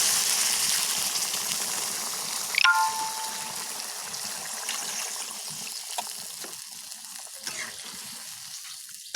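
Water is poured into fish curry cooking in a village kitchen, over spice paste that has released its oil. A steady close hiss and sizzle runs throughout, with a brief louder splash near the start.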